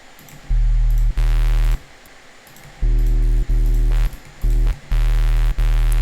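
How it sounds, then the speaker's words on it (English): Synthesized hip hop sub bass built from a plain sine wave with distortion on the top end, playing as loud, sustained low notes in several separate bursts with short gaps between them. "Basically it's hip hop sub bass"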